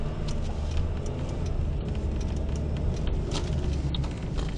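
A car pulls away as a learner driver in her seventies presses the accelerator during a driving lesson, the engine humming steadily and close with light rattles and clicks, no voices over it.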